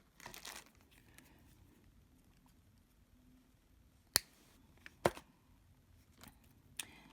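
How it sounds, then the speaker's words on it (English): Excess jewelry wire is snipped while making handmade earrings: a few sharp, isolated clicks of the cutters ring out in an otherwise quiet room, spaced about a second apart. "And then we cut off our excess wire."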